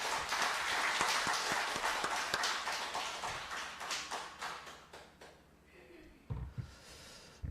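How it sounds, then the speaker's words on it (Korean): A church congregation claps during a worship service, a brisk spread of hand claps that is strongest at first and then gradually thins out and fades away. "큰 박수 부탁드리겠습니다"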